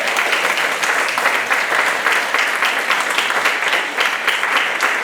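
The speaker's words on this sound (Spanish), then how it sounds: "Un aplauso al Señor, qué fuerte." A church congregation applauds, with dense, sustained clapping from many hands filling the space, steady and loud throughout.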